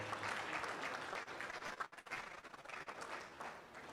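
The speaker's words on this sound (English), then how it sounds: "Please, another warm applause for my Lord." An audience at a seminar on banking for judges claps in warm, continuous applause, a dense patter that dips briefly midway before swelling again, with no speech over it.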